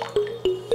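Cold water poured into a foot bath for an at-home pedicure, heard as three evenly spaced splashy drips or glugs, close and fairly loud, with no talking.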